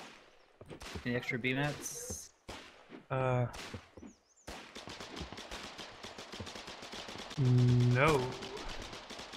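Gunfire crackles from behind sandbags in the war game Foxhole, sharp repeated shots scattered through the clip beneath intermittent speech and a tonal in-game sound.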